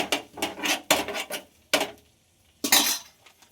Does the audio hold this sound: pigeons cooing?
no